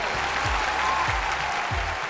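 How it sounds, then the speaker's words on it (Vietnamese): A few dozen crew members applaud in front of an outdoor stage at a night music show, a steady, fairly loud wash of clapping, with low thumps underneath. "mời mấy chục anh em trong ekip mình chịu khó vỗ tay một chút xíu"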